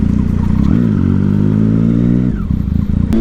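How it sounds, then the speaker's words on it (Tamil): Triumph Street Triple motorcycle fitted with a loud Yoshimura exhaust revs hard: a close, throaty engine roar climbs, holds high for over a second, then drops back to a rumbling idle. "ஊர் ஃபுல்லாக நம்ம வண்டி சவுண்டு தான் கேட்க போகுது."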